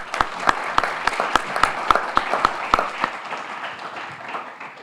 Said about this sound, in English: really a round of applause to both Amit and Rupal